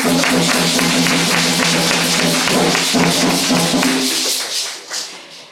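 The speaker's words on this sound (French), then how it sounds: "On l'applaudit encore" Sustained studio applause for a guest marking the first anniversary of the Elephants' third AFCON title, dense steady clapping with a low hum underneath, fading out over the final second.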